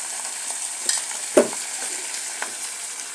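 Coriander and garlic fry in oil in a pan, a soft continuous sizzle with a few light clicks and one sharper scrape partway through, close and fairly quiet.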